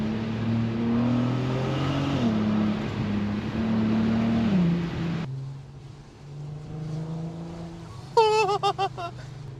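Audi TT with a naturally aspirated 3.2 litre VR6 rated at 250 brake horsepower, a low gurgling engine note with rising and falling revs close by, then a quieter idle and a final short sharp rev.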